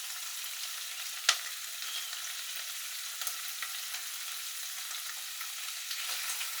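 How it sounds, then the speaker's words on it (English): Constant close sizzling of lobster and king prawn curry base frying in a pan over fairly high heat, with occasional soft scraping and knocks from stirring. "So we just keep frying that and stirring it."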